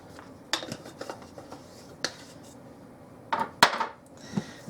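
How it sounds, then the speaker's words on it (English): Seasoning and parsley being mixed in a bowl for cheesy garlic bread: scattered light clicks and scrapes of a utensil against the bowl, close and fairly quiet, irregular taps with short pauses. "I'm going to put that in there and mix that up"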